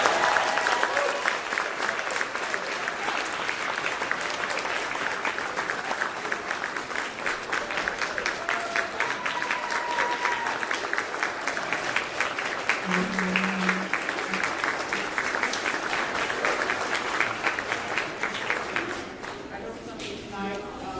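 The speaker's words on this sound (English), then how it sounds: "let's give these guys another round of applause" Audience applause after an acoustic concert, a long sustained round of crowd clapping with a few faint voices underneath, easing off near the end.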